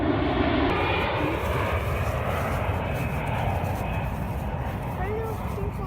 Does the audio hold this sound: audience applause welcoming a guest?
no